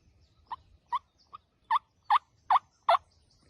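A wild turkey gobbles repeatedly, about seven sharp calls spaced at roughly even intervals, growing louder toward the end, heard outdoors in a quiet setting at moderate distance.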